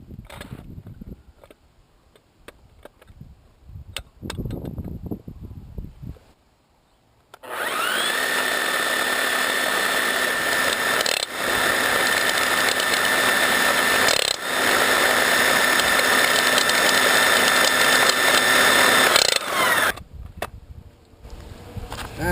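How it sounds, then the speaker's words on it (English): Core drill bit grinding into a concrete curb, a loud steady whirring drone with a ringing tone that runs unbroken for about twelve seconds after quieter handling noises, then cuts off abruptly. "you have to steady the core drill bit right there on the concrete so it doesn't move"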